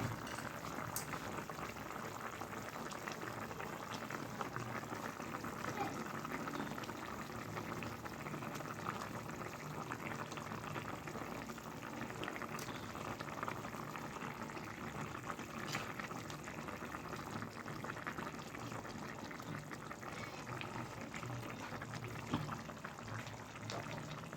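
A pot of potato curry simmering, the potatoes nearly cooked through, giving a steady, even bubbling and gentle boiling hiss that runs unbroken throughout.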